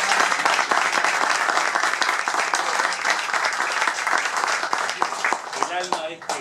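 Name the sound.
audience applause for the waiters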